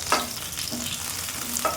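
Pieces of rohu fish frying red-brown in oil in a kadai, a soft continuous sizzle broken by a few light clinks as pieces are lifted out one by one.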